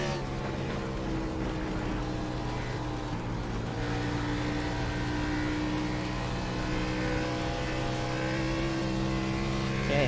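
Race car engines drone steadily and loudly through the whole stretch during an Xfinity Series race at Dover Speedway, as the leader passes amid the constant roar of traffic.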